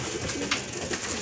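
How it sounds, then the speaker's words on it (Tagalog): Pigeons coo in soft, low, rolling murmurs at close range, a steady overlapping burble with a brief flutter partway through and no one talking. "Ayun mga kalapatids."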